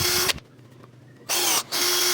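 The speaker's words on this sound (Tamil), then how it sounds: "கரெக்டாக சென்டரில் வந்து பார்த்தீங்கன்னா ஒரு 8 mm ட்ரில் வந்துட்டு போட்டுக்கிறேன்." An 8 mm drill bit bores center holes in cut pieces for a homemade water pumping machine, giving two loud, steady bursts of whirring power-tool noise split by a quiet pause.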